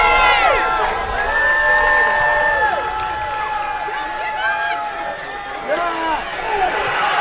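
Home crowd at a varsity high school football game, LCA Chargers versus Northern Virginia Centurions in a DII final, cheering and shouting continuously for several seconds with whistle-like tones over the sustained roar.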